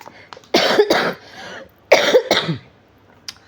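Two bursts of coughing close by, each a cluster of rough, harsh coughs separated by a brief pause, with a faint click at the end.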